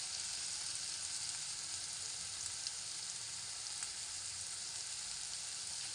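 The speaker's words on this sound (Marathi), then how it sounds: "मच्छी मसाला व्यवस्थित परतून घेऊया आपण" Steady, even sizzle of fish masala and crab sautéing in oil in a pan for a spicy Malvani-style crab curry, a continuous close frying hiss with no talk.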